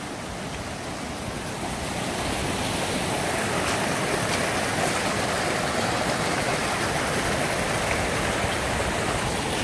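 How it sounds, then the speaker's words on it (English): A river and a waterfall on a jungle property, with two streams joining the main river, rush loudly and steadily in a dense, unbroken roar of flowing water that runs the whole length, with no voices. "Got a lovely waterfall here."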